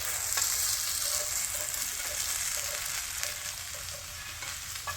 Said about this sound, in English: So that looks like it's getting ready to start sizzling.